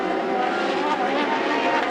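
Tourism race cars at Monza scream past under hard braking into Curva Grande, a brief, dense engine howl heard at a distance, with a commentator talking over it.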